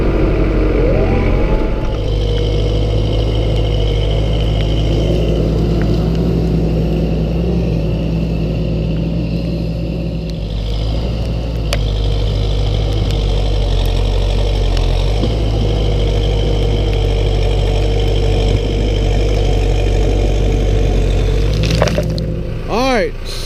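A tractor engine runs continuously while regrading a driveway with a box blade, a loud, close, steady low idle rumble with brief mechanical clanks near the end.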